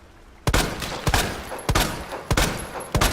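Gunshots from the remake of Resident Evil 2 ring out as about six sharp, loud reports, each with a short echoing tail, spaced roughly half a second apart, with no talk over them.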